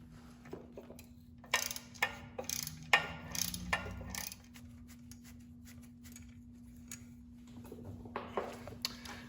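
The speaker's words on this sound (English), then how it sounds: "You've got two bolts here, and they take a T27 Torx bit. Just break them loose." A ratchet fitted with a T27 Torx bit breaks loose the oil return line bolts on a Fiat 500 Abarth, giving bursts of sharp clicking in close, quick runs, then a quiet pause and a few more clicks.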